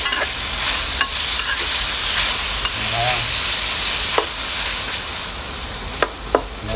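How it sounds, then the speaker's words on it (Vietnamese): Onion and chicken gizzards stir-fry in a pan with a continuous close sizzle. Sharp spatula clicks against the pan come every second or so. "xào cho cái hành tây nó chín nha"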